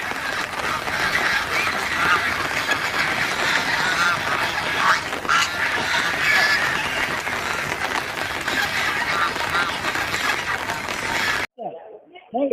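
A large flock of geese (raj haah) honks and cackles in a loud, dense, continuous din with voices mixed in, cutting off abruptly near the end.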